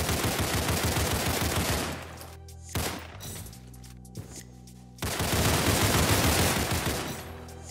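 Sustained automatic AK rifle fire from the video game Criminality, loud and close, a dense rattling burst, a brief lull with a couple of isolated shots, then another long burst.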